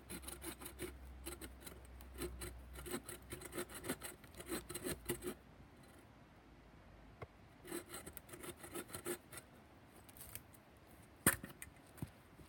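Something cut out by hand with a blade, heard as rapid rasping, rubbing strokes in bursts close up, pausing in between, then resuming with a sharp knock near the end.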